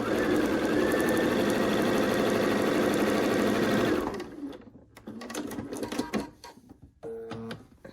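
A sewing machine stitches quilt pieces together for a Bear Paws in the Snow quilt, running loud and steady for about four seconds, then stopping into quieter handling noises and brief bursts as the fabric is adjusted.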